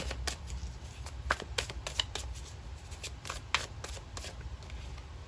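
Tarot cards being shuffled by hand, a steady run of soft papery riffles and slaps with a few sharper snaps, close and fairly quiet, with no voices.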